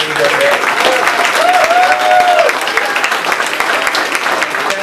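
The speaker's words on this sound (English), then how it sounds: "I'd like to give these folks a big round of applause." Loud crowd applause fills a McDonald's grand opening event, steady dense clapping from a large group lasting several seconds, with cheering tones rising above it.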